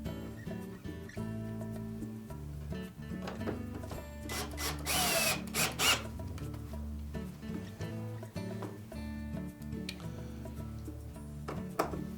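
Power drill driving screws into a Frigidaire dryer door hinge: a close, steady motor whine runs throughout, rising into a louder grinding burst midway.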